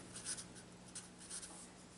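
Pen or marker writing out a calculus definition of differentiation on a board or paper, soft scratchy strokes in short bursts, faint and close with a low background hum.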